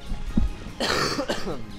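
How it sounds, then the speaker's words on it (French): A single close cough with a throaty, throat-clearing quality, a short breathy burst after a brief pause. "Je vais tousser un coup."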